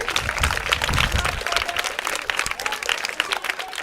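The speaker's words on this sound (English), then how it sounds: "So clap for them, everybody." An audience claps for SALPACT UK at a school furniture donation event at REC Gloucester, a dense, steady wash of applause lasting throughout, fairly close and uninterrupted.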